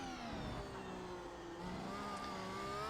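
A Mercedes AMG W12 Formula 1 car engine in the iRacing sim holds a steady, fairly quiet high-pitched whine with rising and falling revs, continuous and close, with no talk over it.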